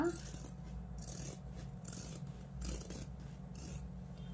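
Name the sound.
scissors cutting chudithar top fabric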